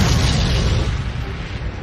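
Bouncing bomb detonating on impact against a dam parapet: a massive, deep explosion roaring at full loudness from the start, then a sustained low rumble that slowly settles.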